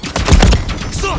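Video game gunfire erupts in close, loud bursts of rapid shots, with overlapping reports across the short moment amid in-game combat noise.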